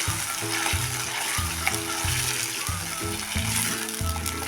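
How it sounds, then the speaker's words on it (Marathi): Tomato puree sautés in hot oil for a spicy Maharashtrian egg masala curry, giving a steady, close sizzle that carries evenly through the whole stretch, with low rhythmic background tones underneath. "त्यामध्ये टाकूया ती आता टोमॅटोची प्युरी टोमॅटो प्युरी पण आपण चांगलं तेल सुटेपर्यंत परतून घेणार आहे"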